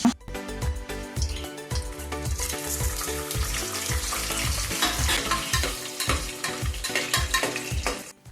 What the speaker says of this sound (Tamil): எண்ணெய் நல்லா சூடானதுக்கப்புறம் கிராம்பு, சோம்பு, பட்டை, பிரிஞ்சி இலை, முந்திரி, ஏலக்காய் எல்லாத்தையுமே நம்ம வந்துட்டு ஆட் பண்ணிக்கலாம்.